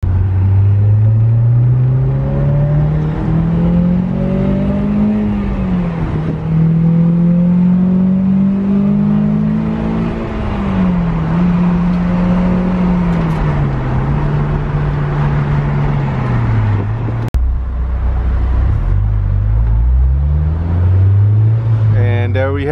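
A Honda S2000's engine hums steadily from inside the car while driving an interstate highway through downtown Austin, its pitch rising and falling as it accelerates and shifts through traffic.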